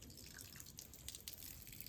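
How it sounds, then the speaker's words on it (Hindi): Water trickles and drips onto ash inside a traditional desi hookah being cleaned, a faint, continuous splashy patter with scattered droplet ticks. "अपने राख अनुसार पानी गिर लेते हैं इसमें"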